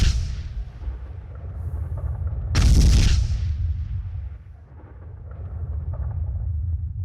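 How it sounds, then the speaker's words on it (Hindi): An anti-tank gun fires and an ammunition-laden tank explodes, producing one loud, sharp blast mid-clip that decays into a long, low rumbling roar over a dull, continuous background. "रूस ने एंटी टैंक गन से हमला किया है। बारूद से भरे टैंक में भीषण धमाका हुआ है।"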